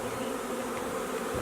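Honeybees from an open package set beside their hive entrance hum with a steady, dense buzz, close and continuous with no talk.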